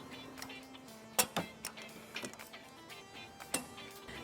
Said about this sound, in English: Now we're going to torque down the bumper beam bolts using a 16mm socket.